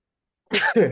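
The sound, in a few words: sneeze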